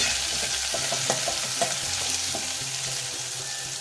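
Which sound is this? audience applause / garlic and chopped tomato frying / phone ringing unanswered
garlic and chopped tomato frying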